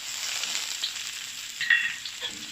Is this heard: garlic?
yes